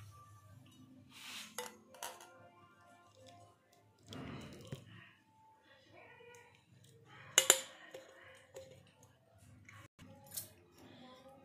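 Glass and metal clinking in a quiet kitchen as giloy decoction is strained into a glass, a few sharp chinks and a soft pouring clatter spread across the clip, fairly close.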